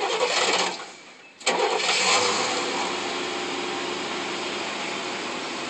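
Famcar with a 402 short-stroke engine starting: a cranking whir cuts out briefly, then the engine catches with a sudden burst and settles into a steady, close idle.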